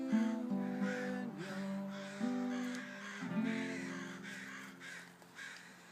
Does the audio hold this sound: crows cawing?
yes